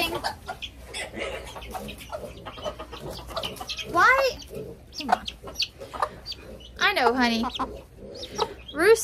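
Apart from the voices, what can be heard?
roosters clucking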